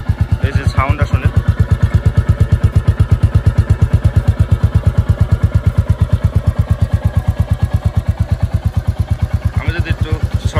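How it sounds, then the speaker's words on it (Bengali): A Royal Enfield Classic 350 single-cylinder motorcycle idles close by with a steady, even thumping rhythm, while brief voices come in at the start and end. "এই হচ্ছে বাইকের সাউন্ড।"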